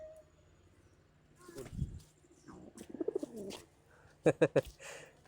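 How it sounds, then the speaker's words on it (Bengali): A pigeon coos in soft, throaty bursts, first a low murmur, then a quick series of pulsed coos and finally three sharp, louder calls, close by in a quiet setting. "কবুতর"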